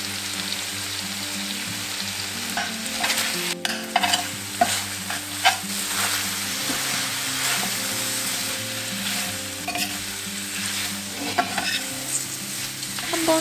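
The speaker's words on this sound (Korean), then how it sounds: "한번 골고루 볶아준 뒤" Paella ingredients with paprika and a pinch of saffron stir-fry in a pan under a constant close sizzle, with scraping spatula strokes and occasional clinks, no voices.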